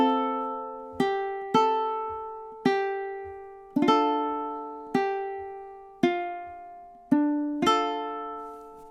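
A ukulele plays measures 7 and 8 of the MASH theme alone and close, as a steady run of about ten plucked chords and notes that ring and decay, some pairs struck in quick succession.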